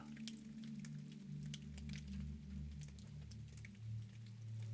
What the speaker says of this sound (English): allow yourself to become fully immersed in the experience of the rain